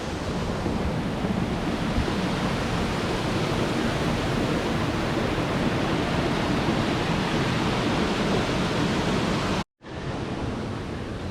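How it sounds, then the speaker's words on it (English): A small waterfall in the Lake District pours down into a deep gorge, giving a loud, steady broadband roar of rushing water heard close by, broken once by a brief cut to silence near the end. "You've got a little tiny waterfall, but then it goes down into"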